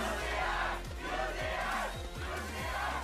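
A distant, fairly quiet crowd at a 2017 League of Legends All-Star 1v1 final cheers and shouts in overlapping voices, with rising and falling whoops coming in waves.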